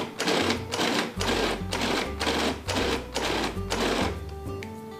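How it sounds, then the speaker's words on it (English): Pork being ground in a food processor for Thai red pork curry: a loud, close motor whir repeated in about five pulses, each roughly a second long with brief gaps between them. "I'm putting them in my food processor"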